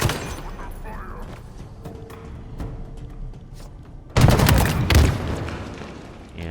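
Gunfire in the Halo Infinite video game on the Conservatory mission, with sporadic thuds under speech and then a loud burst of shots and impacts near the end.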